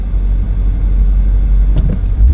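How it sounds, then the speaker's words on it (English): A Ford F-150 pickup truck races with a deep, loud, steady engine rumble close by. The roar swells slightly near the end of the short burst. "I think this dude trying to race. What the F-150 got, bruh?"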